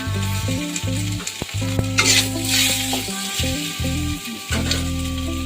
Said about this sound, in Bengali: তেল গরম হয়ে গেছে, এখন আমি সেদ্ধ করা আলুগুলো ঢেলে দিয়েছি।